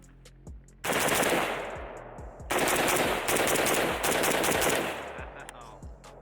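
Pioneer Arms 5.56 AK sporter underfolder rifle fired in rapid bursts outdoors, loud sharp report strings with brief pauses between volleys and no talking.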